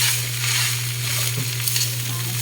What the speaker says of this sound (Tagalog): Haluin lang po natin siya ng haluin para ma-fried rice po siya.